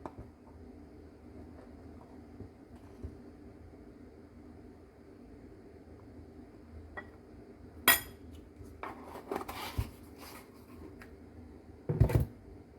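A spoon measures curry spice for Iraqi amba sauce. After a long quiet stretch come a few sharp metallic clinks against dishes, then a brief louder clatter near the end.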